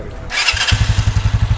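A motorcycle engine cranks with a brief whir, then catches and settles into a loud, close, rapid idle thump.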